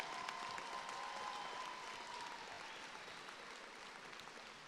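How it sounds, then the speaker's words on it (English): Commencement audience at a spring college graduation ceremony applauds, a dense, steady wash of many hands clapping that fades slightly toward the end, heard from a distance and fairly faint. "Let's give them another round of applause."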